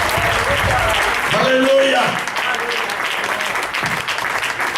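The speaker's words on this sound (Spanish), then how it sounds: "¿Cuánto le damos un aplauso al Señor?" A church congregation applauds the Lord during a Good Friday crucifixion service, steady dense clapping filling the room while a voice calls out over it.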